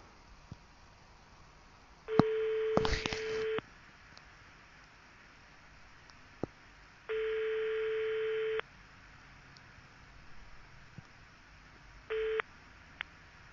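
Ringback tone on an outgoing telephone call to a mobile number: steady beeps of about a second and a half each, repeating with long silent gaps, clear and moderately loud over faint line hiss.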